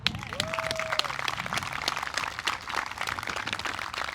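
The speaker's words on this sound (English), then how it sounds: "Let's give him a round of applause." An audience at a lifetime achievement event gives a round of applause, a moderate, steady patter of many hands clapping throughout, with some voices mixed in.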